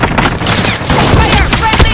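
Rapid automatic gunfire from the Modern Warfare video game, loud bursts of close shots crackling in quick succession for two seconds.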